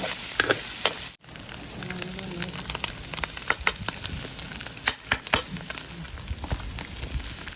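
Ground pork giniling frying and being stirred in a pan for a home birthday feast, a continuous crackling sizzle with scraping clicks of the spatula throughout.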